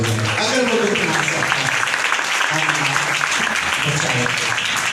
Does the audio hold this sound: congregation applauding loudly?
yes